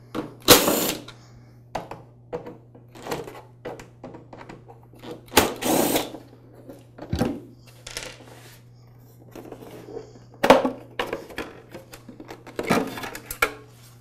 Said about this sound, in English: I'll remove the two screws that hold each side in place.